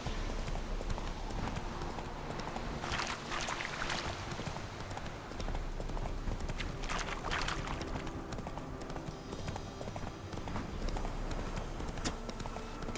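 Roach the horse galloping in The Witcher 3, a steady rhythmic clip-clop of hooves on a road, moderately loud and continuous, with faint ambient game sound beneath.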